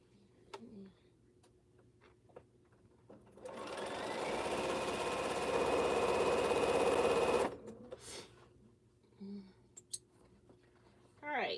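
A sewing machine runs steadily for about four seconds in the middle, stitching quilt pieces, with faint ticks and clicks from handling before and after.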